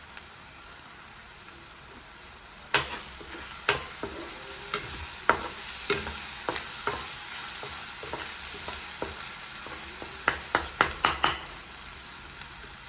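Egg curry masala sizzles and fries in oil in a pan while a spoon stirs it, scraping and clinking in irregular strokes that cluster toward the end over a constant soft hiss.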